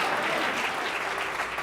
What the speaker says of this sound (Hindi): क्यों ना जोर से प्रभु के लिए ताली बजाएं।